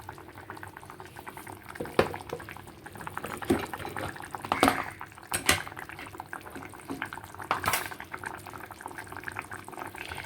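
Covered pot of rui fish curry with potatoes bubbling on the stove, a steady busy simmer with irregular pops and gurgles that swell and fade, heard close and alone.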